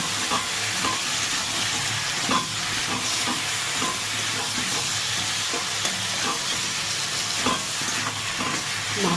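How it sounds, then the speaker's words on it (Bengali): Hilsa fish head being sautéed and stirred in oil with coriander and cumin powder for a curry with Malabar spinach, a constant close sizzle and frying hiss with light stirring scrapes throughout. "ধনে গুঁড়ো জিরের গুঁড়ো সব দিয়ে ভালো করে একটু কষিয়ে নেব"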